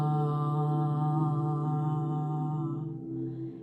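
An open-mouthed pranayama "ah" exhale, voiced as a long steady humming tone like an ocean wave, sustained alone for about three seconds before trailing off.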